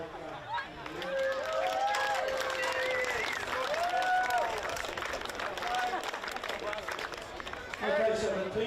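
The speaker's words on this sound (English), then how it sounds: "I'd like to give both teams a great round of applause for a really well played game." Crowd applause after a Southern Football League game between Reynella and Flagstaff Hill, steady clapping and cheering sustained for several seconds with voices and shouts mixed through it.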